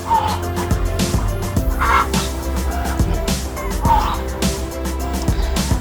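Large free-range Thai farm chickens at feeding time, several birds clucking and calling in bursts close by over a steady low hum of background noise.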